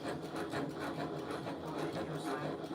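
A sewing machine stitches steadily, a continuous fast mechanical whir at moderate level, with faint talk alongside.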